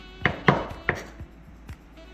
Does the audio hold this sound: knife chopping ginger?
yes